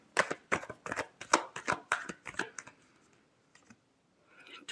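Tarot cards riffle-shuffled by hand in a quick run of crisp, close fluttering bursts, then a pause with a couple of faint card taps before a soft shuffle resumes.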